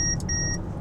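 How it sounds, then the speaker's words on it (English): Three quick high electronic beeps from a 2019 Mercedes-Benz A220's blind spot warning, evenly spaced over a steady low cabin and road hum, clear and close. "it will beep and it will flash to let me know it's not safe to cut over"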